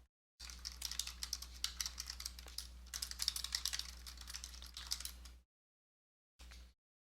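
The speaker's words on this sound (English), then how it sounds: "you can always find them on my YouTube channel, which I'm going to be typing into chat" Rapid typing on a computer keyboard into a chat, dense clicking keystrokes for about five seconds, then a short burst after a pause, close and without talk.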